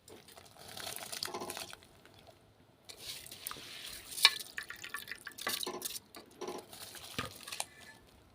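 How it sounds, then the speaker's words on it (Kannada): Quiet splashing and pattering as washed rice is poured into boiling water, arriving in small irregular bursts. "ಈಗ ನೀರು ಕುದೀತಾ ಇದೆ, ಅದಕ್ಕೆ ತೊಳೆದಿಟ್ಟಿರೋ ಅಕ್ಕಿ ಹಾಕ್ತಾಯಿದ್ದೀನಿ"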